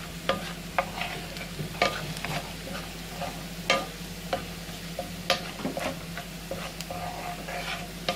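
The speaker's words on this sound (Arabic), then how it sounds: "هنشوح الكلام ده كله كده مع التومه" Garlic with ground coriander and paprika sautéing in a pan for meatless moussaka, a soft steady sizzle broken by frequent light clicks and scrapes of stirring.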